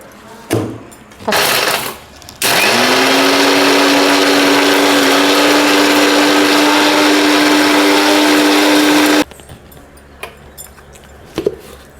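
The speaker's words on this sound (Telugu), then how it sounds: "ఉప్పు అయితే వేసుకొని మిక్స్ పట్టుకోవాలి ఇప్పుడు" A mixer grinder whirs loudly and steadily for several seconds, grinding gongura pods with coarse salt, preceded by short bursts and followed by quiet handling clatter.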